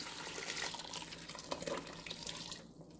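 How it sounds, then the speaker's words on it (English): Blended green verde sauce pours into a pot of seasoned chicken chili for a pressure cooker, giving a steady, wet, splashing liquid rush up close that fades near the end, with no talking. "Then we're going to pour in that verde sauce that we blended up."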